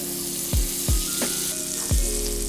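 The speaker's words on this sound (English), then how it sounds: "I'm gonna add my butter to the pan." Butter melts and sizzles in a hot pan, a steady hiss underlying several low thuds and clinks from the pan and utensil, close by with no talking.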